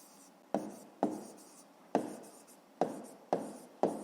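A pen writes out a math solution by hand in short, separate strokes, about six sharp scratches spaced under a second apart, close and quiet with no talk.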